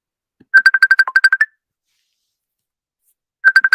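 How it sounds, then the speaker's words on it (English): A telephone rings in two bursts of rapid electronic trills separated by a silent gap, clear and close with no other sound around it. "The phone is ringing."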